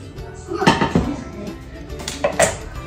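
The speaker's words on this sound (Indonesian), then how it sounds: "Aku pakai panci satu lagi." A cooking pot is handled in a home kitchen while a vegetable dish simmers, before anchovies and tempeh are fried. A few close metallic clanks and knocks ring out, with softer clatter between them and no talking.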